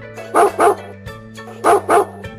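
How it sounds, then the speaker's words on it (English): A dog barks in two quick pairs of loud, close woofs over a steady background hum, in a children's alphabet phonics song. "D is for dog."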